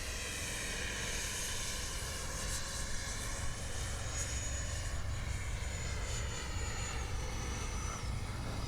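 A 70mm electric ducted fan RC model of a Czech JAS-39 jet passes overhead with a steady, loud rushing whine that holds throughout without pause.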